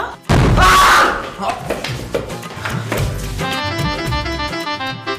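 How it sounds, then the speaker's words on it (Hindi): A bomb blast goes off inside a house: a sudden heavy boom with a dull thud lands near the start, then a rumbling tail fades as music rises and voices carry on underneath. "बम चल गया"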